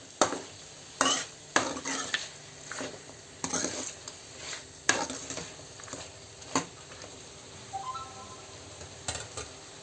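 Tomatoes are stirred in a pan while cooking mutton curry, making soft, irregular scrapes and clinks of a utensil against metal over a faint sizzle.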